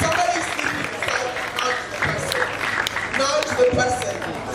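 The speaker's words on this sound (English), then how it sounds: "let's have a louder round of applause for everybody in this room" A room full of people claps in a sustained, dense round of applause at a student engagement talk, steady and fairly loud throughout without clear breaks.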